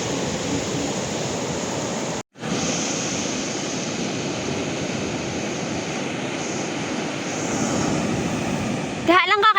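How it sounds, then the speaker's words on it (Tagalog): Strong waves break on a Davao Occidental beach in a continuous loud roaring wash, broken by a brief dropout near the start, with voices heard faintly at the end. "Diha lang ka kay kusog ang balod."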